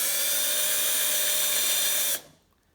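A small drill bores into a vintage bicycle quick release skewer, giving a loud, steady high-pitched whine that runs for about two seconds before cutting off abruptly into near silence.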